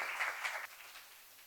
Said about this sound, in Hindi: एक बार मैं सर के सम्मान में शानदार तालियां चाहता हूं।